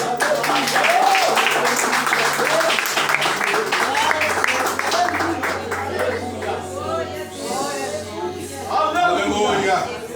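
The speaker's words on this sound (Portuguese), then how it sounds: "Aplaude o nome do Senhor." A church congregation applauds loudly and continuously, the clapping mixed with raised voices and shouting from the crowd, then easing briefly before swelling again.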